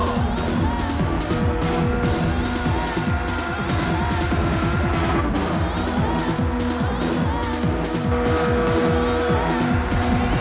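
Race car in the PS1 game Ridge Racer Type 4, a loud, continuously revving engine with rising and falling pitch sweeps and gear changes, backed by game music throughout.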